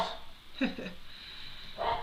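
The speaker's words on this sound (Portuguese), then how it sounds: "com fundo musical da minha cachorra latindo lá no fundo" A female dog barking in the background at home, a couple of faint distant barks heard over a steady low hum.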